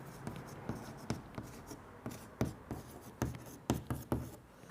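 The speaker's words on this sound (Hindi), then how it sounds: "लिखेंगे अब" Chalk tapping and scraping across a classroom board during a physics lesson on concave mirrors, a series of sharp, irregular strokes and taps close by, with no talking.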